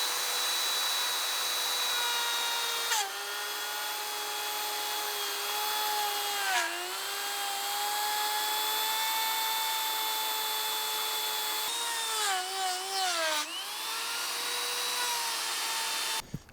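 A router cuts a channel in wood with a loud, high, steady whine, its pitch dipping briefly as the bit bites harder into the workpiece, then cutting out at the end.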